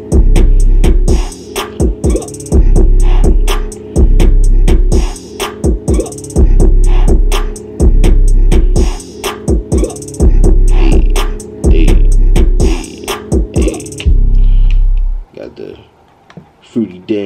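A hip-hop song plays loud and unprocessed in FL Studio with a steady pounding beat and bass, rhythmic vocals over it, before the track cuts out near the end.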